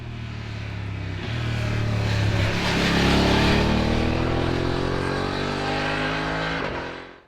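Voge DS900X motorcycle engine under way, a loud steady drone that swells and holds with shifting pitch as the rider accelerates, then fades and cuts off near the end; no talk.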